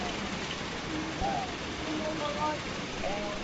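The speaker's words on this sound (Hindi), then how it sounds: "बारिश वाकई बहुत ज्यादा तेज स्टार्ट हो गई है" Heavy rain pours down in Bali, a dense, steady hiss of drops on surfaces heard from a restaurant shelter, constant and moderately loud throughout, with faint voices underneath.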